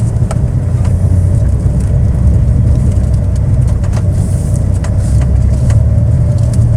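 A car rolls slowly over a potholed narrow street, with a steady low rumble of engine and tyres, a few dull knocks from the bumps, and faint birds far off.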